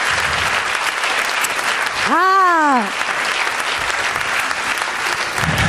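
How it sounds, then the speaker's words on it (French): Audience applause for a comedian at a French stand-up comedy showcase, steady and loud throughout, with a brief exclaimed voice rising over the clapping midway. "Applaudir Mehdi"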